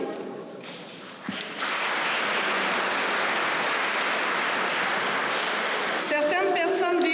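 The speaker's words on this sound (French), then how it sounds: "préparez-vous à applaudir nos ambassadeurs" An audience at a recognition gala in Lanoraie breaks into loud, sustained applause for ambassadors after a spoken introduction, with musical tones entering near the end.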